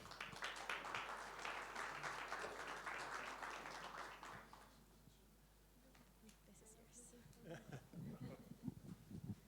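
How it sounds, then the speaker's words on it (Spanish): Audience applause at a district energy conference, a dense steady patter of many hands that fills the first half and then thins out, giving way to quieter room noise and a few scattered sounds. "Un aplauso para él, por favor."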